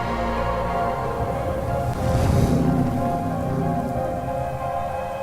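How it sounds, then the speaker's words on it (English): Timefall rain from a video game pours steadily as a dense, loud hiss, swelling briefly around the middle with a low rumbling surge before settling back to an even downpour, with no voices. "The timefall fast forwards whatever it touches, but it can't wash everything away."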